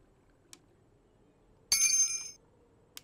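A bell pickup chimes once when collected in the game Frosty Nights, a short bright metallic jingle lasting about half a second, heard alone with faint soft clicks before and after.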